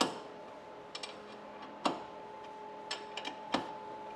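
Sharp metallic clicks of a wrench ratcheting on a bolt of a brake caliper fitted to a Subaru STI, a few isolated ticks spaced irregularly over a quiet shop background with a steady hum.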